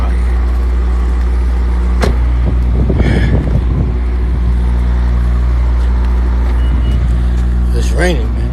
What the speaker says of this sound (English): All that traffic is going.